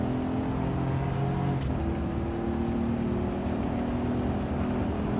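A classic car in a PSVR2 racing video game accelerates with a steady engine drone whose pitch shifts and rises partway through, continuous and moderately loud for several seconds with no talking.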